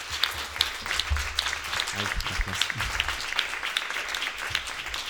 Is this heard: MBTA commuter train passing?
no